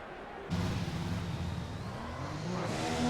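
A video game race car engine roars up suddenly and holds a high, buzzing revving whine, like a car accelerating on the Hungary track.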